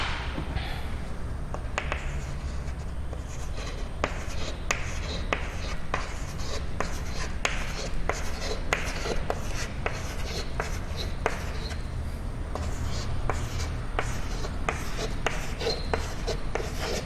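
A pen scratches across paper while someone draws a diagram, with quick strokes and taps in an irregular rhythm over a steady background hum.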